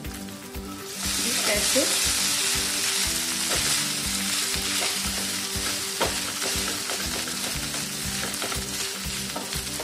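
Crispy noodles frying in hot oil in a pan and being flipped, a loud steady sizzle throughout with regular scraping and stirring clicks, a few quiet spoken words.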